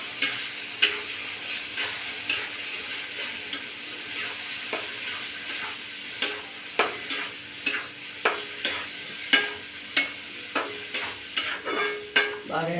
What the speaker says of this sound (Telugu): మిశ్రమాన్ని ఎర్రగా వేయించాలండి.